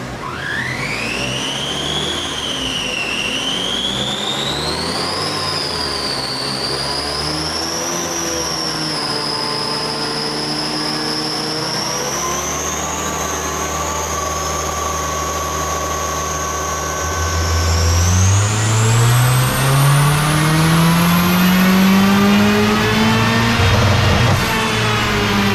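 Stock Honda D16 engine running 18psi of boost through a short-ratio gearbox, revving steadily upward in a long, loud fifth-gear pull with turbo whine rising over the drone and pitch climbing near the end.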